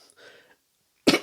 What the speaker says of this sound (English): not sure where that cough came from.